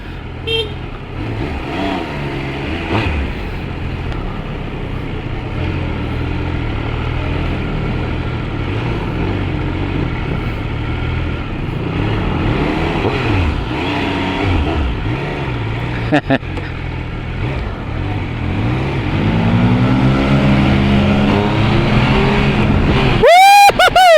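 Triumph Speed Triple RS 1200 motorcycle engine on the move, a steady close drone mixed with wind rush that swells into a sharp rising rev near the end.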